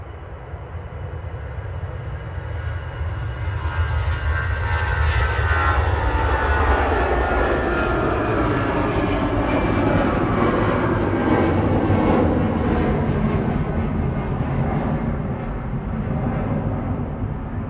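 A Pilatus PC-24 business jet on approach at Manchester Airport passes loud and close, its engine roar building, holding strong through the middle and easing slightly toward the end.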